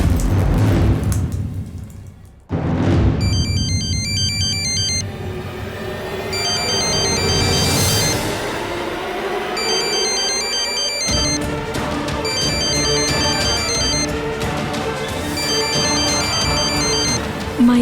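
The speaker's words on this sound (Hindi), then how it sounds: "माई का फोन।" A mobile phone ringtone plays in repeated electronic melodic bursts, four rings spaced evenly over the scene, with dramatic music and a rumbling storm underneath.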